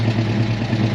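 A 1985 ASC McLaren coupe's engine idling after years unused, a steady low rumble with some clatter, close and continuous with no talk.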